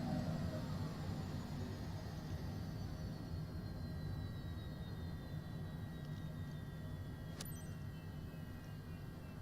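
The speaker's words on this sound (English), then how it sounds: "I apparently missed turning off an engine." An airliner engine left running in Microsoft Flight Simulator 2024 gives a continuous jet whine and broad roar, steady and moderately loud throughout, with a faint descending tone and one brief click, and no talking.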